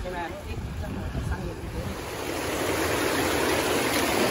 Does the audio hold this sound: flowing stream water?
yes